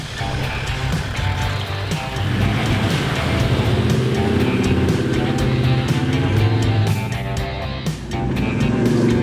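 A 4WD vehicle's engine drones steadily up close as it drives along a dirt track, loud and continuous throughout, with faint voices in the background.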